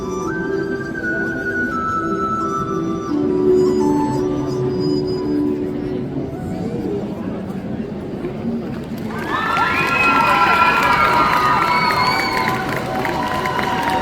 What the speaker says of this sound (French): On peut les applaudir encore une fois, ce grand groupe.